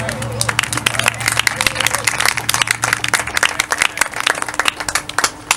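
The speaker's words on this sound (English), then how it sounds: "Let's give her another round of applause" Audience applause at a live jazz and spoken-word event at the Black Madonna Shrine in Detroit: dense, sustained clapping from a crowd, close and fairly loud, with some background babble and a low hum throughout.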